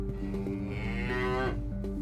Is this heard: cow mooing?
yes